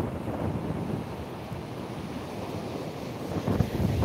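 Strong wind buffets the microphone while surf rolls on the shore at Coney Island during a windstorm, a continuous loud roar with no voices.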